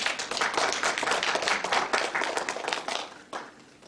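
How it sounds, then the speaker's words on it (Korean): A church congregation claps and applauds loudly for a few seconds during a worship service, dense and steady, then tapers off toward the end. "다시 한번 우리 하나님께 영광의 박수를 드립시다"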